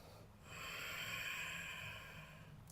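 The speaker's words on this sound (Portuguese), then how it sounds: "Uma respiração profunda." A single long, deep breath drawn in during vinyasa yoga practice, soft and close, swelling and fading over a couple of seconds with no talking.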